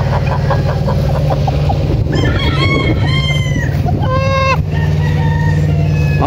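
A rooster crows loudly several times at a chicken farm among other fowl, over a constant low mechanical hum.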